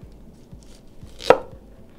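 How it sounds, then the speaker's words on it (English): A kitchen knife slices Brussels sprouts in half on a cutting board with one sharp, close chop standing out over faint low rhythmic thumps. "Next thing we're going to do is we're going to cut them in half"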